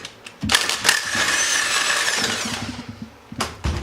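Impact wrench driving a clutch puller to pop the primary clutch off the crankshaft of a Can-Am X3, heard as loud bursts of rattling hammering with a brief squeal, then short clicks as the part comes free.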